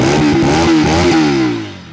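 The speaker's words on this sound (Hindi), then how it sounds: "थोड़ा सा इसका थ्रोटल खींच के देखते हैं कि" Bajaj RS 200 motorcycle revved hard with the throttle close by, a loud raspy exhaust roar pulsing with quick throttle blips, then dropping back as the revs fall away.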